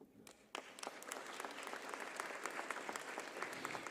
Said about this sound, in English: a huge round of applause for the moderator of the session